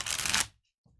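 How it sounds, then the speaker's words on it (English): Shuffling a tarot deck with silver-edged cards: a dense half-second riffle of rapid papery flutter, close and loud, then silence and a faint soft rustle at the end. "It's got nice silver situation going on here, which is going to make it a crime for me to shuffle, which I'm going to do anyway."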